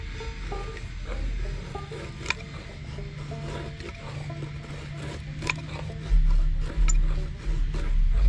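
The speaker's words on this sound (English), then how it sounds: "I'm going to make up some shavings" Knife carving shavings off a piece of fatwood for feather sticks, a steady close scraping rasp of blade on resinous wood, with a few heavier scuffs and knocks near the end.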